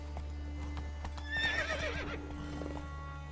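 A horse in The Witcher 3: Blood and Wine lets out a clear whinny over a steady rhythm of hoof clops and a constant low background hum, short and close.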